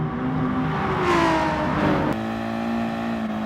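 BMW race car engine in a racing video game, a loud sustained engine drone that swells and revs up, then drops sharply at a gear change and carries on steadily, with no talk.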